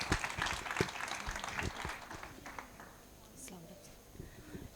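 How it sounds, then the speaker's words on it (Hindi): Congregation at a Sunday church meeting claps loudly and steadily, a dense crowd applause that tapers off toward the end, with voices mixed in. "आए जोरदार तालियां बजाएं खुदा के जलाल के लिए।"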